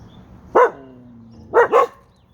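A dog barks in a desert yard: one sharp bark, then a quick double bark a second later, close and loud over quiet outdoor background.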